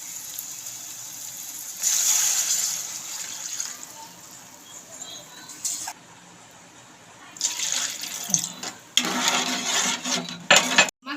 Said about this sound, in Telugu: ఇవన్నీ ఫ్రై అయిపోయిన తర్వాత దీనికి సరిపడా వాటర్ని అయితే యాడ్ చేయాలి